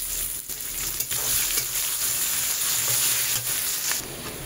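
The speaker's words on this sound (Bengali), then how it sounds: "এইবার আমি যে পেঁয়াজগুলোকে কুচিয়ে রেখেছি সেই পেঁয়াজটাও আমি এতে দিয়ে দিচ্ছি।" Chopped onions frying in a pan with ginger and garlic, a continuous close sizzle of hot oil with light crackling and brief stirring scrapes.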